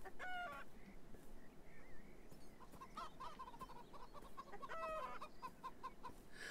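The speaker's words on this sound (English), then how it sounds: "If you just run around chasing chickens about the place" Chickens cluck and a rooster calls in a video game, with repeated short clucks and a few crowing bursts over a steady ambient background, moderately near and without talk.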